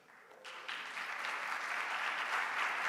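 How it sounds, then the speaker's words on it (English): A conference audience at a music research society session starts clapping, quiet and sparse at first, then swelling into steady, moderately distant applause that keeps building to the end. "maybe you can hold the applause to the end"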